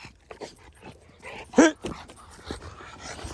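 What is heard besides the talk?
dog during bite work training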